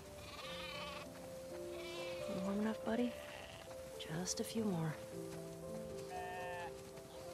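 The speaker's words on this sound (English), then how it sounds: "We definitely have way too many sheep." Sheep in the video game The Last of Us Part II bleat in several wavering calls scattered across a farm scene, mixed with someone talking quietly.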